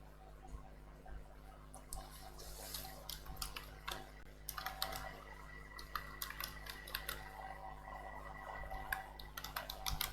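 Computer keys clatter in irregular bursts of quick clicks, fairly close and soft, with brief pauses between runs of typing and no speech.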